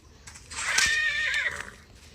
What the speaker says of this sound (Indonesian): Kuda, aku butuh kuda.